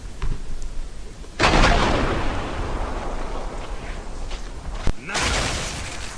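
Sniper rifle fire in the video game Gears of War 2: two sharp, loud cracks a few seconds apart, each followed by a long, rumbling echoing tail over steady game ambience.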